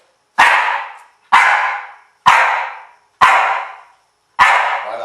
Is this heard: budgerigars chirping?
no